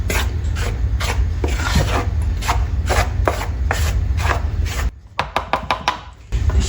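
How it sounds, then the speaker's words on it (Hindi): Gram flour, chopped onion and crushed cumin being mixed by hand in a bowl, a steady run of close, rasping rubs and squishes that breaks into a few separate pats near the end. "अब अच्छी तरह हम मिक्स करेंगे।"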